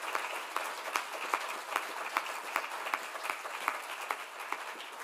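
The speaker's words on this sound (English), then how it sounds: "Let's just give another round of applause to our musicians." Audience applauding musicians at a celebration honoring Mark Labberton, a steady moderate crowd clapping with scattered louder claps, slightly distant, no talking.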